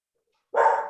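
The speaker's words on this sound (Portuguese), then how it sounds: "só do meu cachorro parar de latir." A pet dog at home lets out a single sharp bark, close and loud, after a stretch of silence. The bark tails off into a breathy, fading end.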